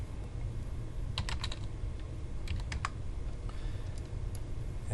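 Quiet clicks of a computer keyboard as values are entered into CAD drawing software, two short clusters of keystrokes over a steady low background hum.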